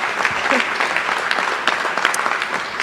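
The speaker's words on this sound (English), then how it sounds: "So that deserves another hand of applause," Audience applause at an event announcing free community college for Columbus City Schools graduates: a dense, steady wash of many hands clapping at full volume throughout.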